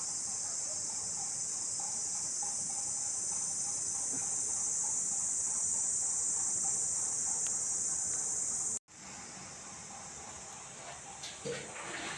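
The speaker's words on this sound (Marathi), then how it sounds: "आणि रातकिड्यांचा आवाज बघा किती" Steady, dense cricket chirping fills the air, loud and continuous, with a brief dropout near the end before the trilling resumes.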